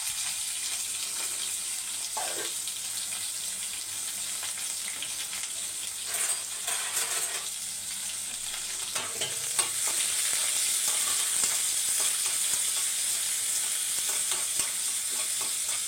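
Sliced onion fries in oil with mustard, fenugreek, cumin, curry leaves and a dried red chili, giving a steady soft sizzle and hiss that grows slightly louder partway through, with occasional stirring scrapes and no voices.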